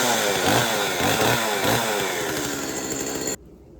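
A Neotec NS832 chainsaw, brand new, revs loudly and steadily close by, its engine surging in a few rhythmic pulses before cutting off abruptly near the end.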